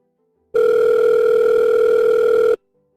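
A single loud, steady electronic telephone tone sounds for about two seconds, then cuts off into silence.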